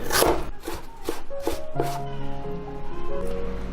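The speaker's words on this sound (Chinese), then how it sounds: "再来切点姜丝" Knife chopping ginger into thin shreds on a cutting board, several quick close taps at first, then faint cutting under a sustained tonal hum.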